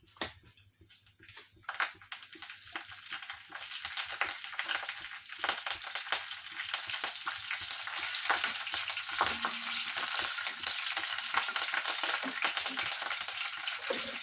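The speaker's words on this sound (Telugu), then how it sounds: "ఆయిల్ బాగా వేడెక్కాక మనం కొన్ని పోపు గింజలను వేసేసుకోవాలి అలాగే కాస్త పచ్చి కరివేపాకును వేసేసుకుంటున్నాను" Tempering seeds and fresh curry leaves hit hot oil with a sudden crackle that swells into a dense, steady sizzle with scattered pops, close and fairly loud.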